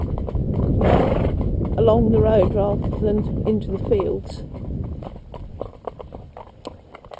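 A horse being led at a walk along a road, hooves clip-clopping in a steady rhythm close by, with a neigh early on and someone talking over much of it.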